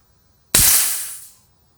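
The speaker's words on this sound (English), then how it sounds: "When you're done, bleed the air between your fill source and the gun." Compressed air from a Diana Skyhawk .22 regulated PCP air rifle's fill line bursts out in one loud, close hiss that starts abruptly and fades over about a second, then silence.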